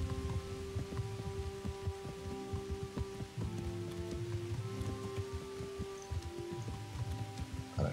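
Rain falling in the video game Kingdom Come: Deliverance, a steady patter beneath sustained musical tones and occasional low thumps, continuous throughout with no voices.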